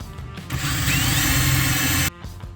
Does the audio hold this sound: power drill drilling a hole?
yes